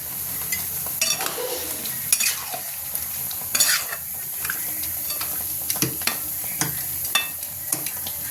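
Vegetables seasoned with turmeric sizzle steadily in a pan while a spoon stirs and scrapes them in irregular clicks and knocks, close and clear, with no one talking.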